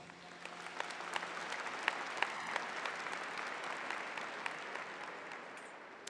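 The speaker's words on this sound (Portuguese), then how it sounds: "aplauda a palavra do Senhor" Church congregation applauding after a scripture reading, a fairly soft, steady patter of many hands with a few sharper claps standing out, heard from some distance in a reverberant room.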